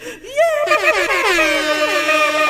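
A loud, sustained air horn blast with wavering, rising and falling tones that holds for a couple of seconds, with a brief voice at the start.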